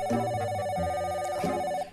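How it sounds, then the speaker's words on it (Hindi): A telephone rings with a steady electronic trill for about two seconds, close and clear, then cuts off. "ये देखो बज गई घंटी।"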